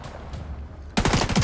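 Gunfire in the shooter game The Division 2, a quiet stretch followed by a sudden loud, rapid burst of close automatic shots.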